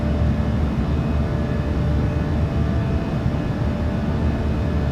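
PMDG 737-700 engines at climb power in MSFS2024, a steady, loud, broadband jet roar with low rumble heard from the cockpit, unchanging throughout.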